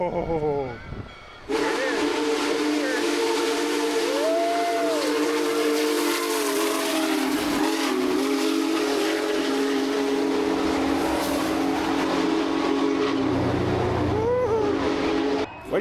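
Union Pacific Big Boy No. 4014 steam locomotive passing close: a loud, sustained chord whistle with steam hiss and heavy rolling rumble of the train, the whistle blasting several times over the clattering cars.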